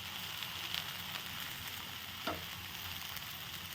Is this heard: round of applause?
no